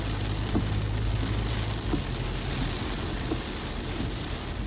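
Heavy rain from a typhoon pours down in Phu Quoc, Vietnam, a dense, continuous roar of drops pattering on surfaces, with a low rumble beneath and a few faint, scattered thuds.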